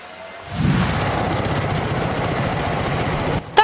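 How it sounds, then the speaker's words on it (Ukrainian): An old Dnipro motorcycle, rebuilt by its owner and friends, starts up in a village in Ternopil region and runs with a close, loud, steady rumbling chug for about three seconds before cutting off. "Мотоцикл чоловік разом з друзями і знайомими переробляв з дідового Дніпра."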